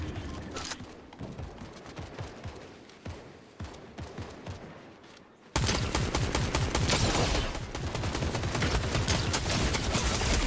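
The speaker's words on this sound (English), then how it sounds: "Someone shooting me from the left or the right." Video game gunfire: scattered shots and bursts at first, then a dense, loud continuous barrage of rapid fire from about the midpoint onward.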